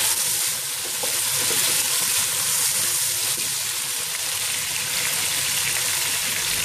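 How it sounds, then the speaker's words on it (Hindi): Chicken frying in a pan until golden: a steady, close, dense sizzle of hot oil with faint stirring throughout, no voices. "जब तक ये गोल्डन ना हो जाए हमने इसको फ्राई करते जाना है।"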